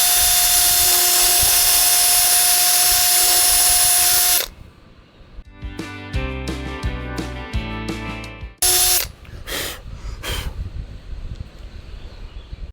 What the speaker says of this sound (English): So right now I'm just drilling pilot holes.